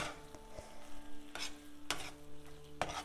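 A spoon stirs cashews and raisins through pineapple kesari, a South Indian sweet, in a pan, giving a few distinct scraping strokes over a soft, steady sizzle with no talking.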